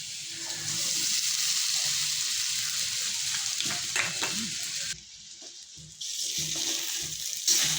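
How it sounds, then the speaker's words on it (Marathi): Sabudana is added to a pan and sautéed for khichdi, a continuous close sizzle with stirring scrapes, broken by a brief quieter gap before the frying noise resumes. "आता आपण यात साबुदाणे टाकून घेऊया।"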